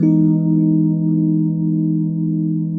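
A sustained electric piano chord rings out steadily, warm and mellow, fading only slightly over a few seconds with no voices.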